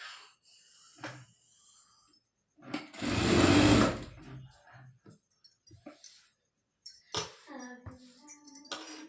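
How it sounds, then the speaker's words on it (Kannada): A sewing machine stitches a blouse in several short bursts, with one longer loud run in the middle and more brief stitching runs afterward, and quiet handling between them. "ನಾನಿಲ್ಲಿ ಕೆಳಗಡೆಯಿಂದ ಸ್ಟಿಚಿಂಗ್ ಅನ್ನೋದನ್ನ ಕೊಟ್ಕೊಂಡ್ಬರ್ತೀನಿ"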